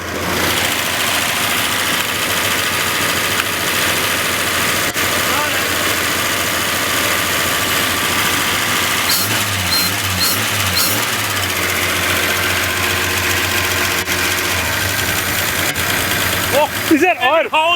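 An old Ford Falcon's engine idles steadily after a cold start, a continuous close, loud mechanical drone with a ticking rhythm throughout, while people talk briefly over it near the end.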